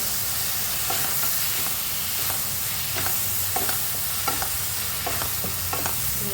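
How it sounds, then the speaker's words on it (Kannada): Amaranth and fenugreek leaves are stir-fried with salt in a pan. The leaves sizzle steadily while a spatula scrapes and tosses them in regular strokes, close up and without talk. "ಉಪ್ಪು ಹಾಕ್ಕೊಂಡಾದ್ಮೇಲೆ ಸ್ವಲ್ಪ ಫ್ರೈ ಮಾಡ್ಕೊಬೇಕು."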